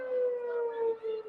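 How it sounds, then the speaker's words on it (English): A siren wails with a steady, sustained tone that sags slightly in pitch, heard in the distance during a high school soccer semifinal between Pennington and Robbinsville. "you hear the siren?"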